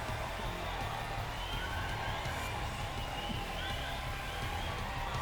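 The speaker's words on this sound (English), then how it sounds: "The crowd let out a huge cry of joy upon hearing that." A large concert crowd in the video game Chaos Head Noah roars with joy, a dense continuous wall of cheering and shouting held at a steady loud level throughout.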